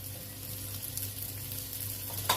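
Green beans fry in a hot paella pan, a steady, fairly quiet sizzle with a low hum underneath and a brief clatter at the end.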